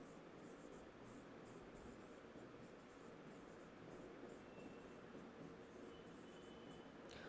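Chalk or marker writes on a board in a math class, with faint, steady scratching strokes against a constant background hiss and no speech.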